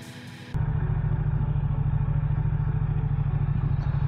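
A Ducati XDiavel S motorcycle fires up after a brief quiet moment, then runs with a steady, low, throbbing engine pulse that is close and loud and continues unbroken.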